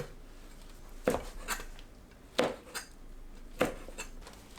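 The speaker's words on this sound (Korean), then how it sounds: "다리 끝을 제거하고 한 입 크기로 썰어주세요" Squid is sliced into bite-size pieces on a board, with three distinct knife knocks spaced about a second apart and a few lighter taps between, close and clear in a quiet kitchen.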